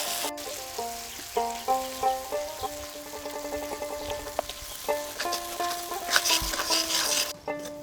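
Spice paste for a Bengali bata fish curry sizzling in slightly cooled oil, a soft steady crackle under scattered clinks and stirring scrapes, close and moderately quiet.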